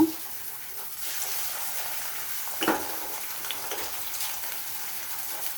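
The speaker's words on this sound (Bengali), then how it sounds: "তো কড়াইয়ে তেল দিয়ে দিয়েছি। এখন পেঁয়াজগুলো দিয়ে দিব।" Onions going into hot oil in a wok for a bitter gourd fry give a steady, close sizzling hiss that runs throughout, with one brief louder crackle partway through.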